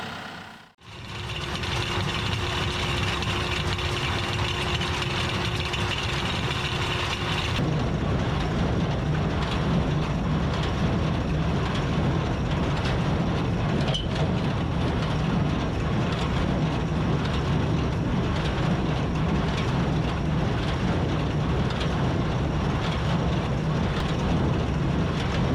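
An old 64-year-old wire tie square hay baler is pulled by a tractor in a field, giving a loud, steady broadband engine and machinery drone that runs continuously throughout without speech.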